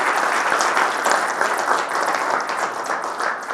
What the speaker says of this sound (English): I'd like you to give him a big round of applause.